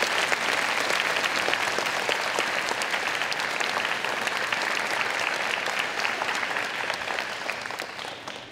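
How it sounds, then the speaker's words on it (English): Sustained applause from an audience at an educator award ceremony, dense and steady clapping that fills the room for the whole stretch and eases slightly at the end. "Can we give them another round of applause?"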